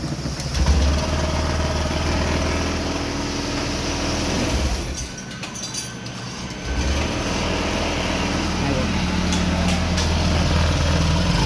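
Honda Activa BS6 scooter engine running after a magnet coil repair: a close, steady idling rumble with a brief dip midway before the engine note returns.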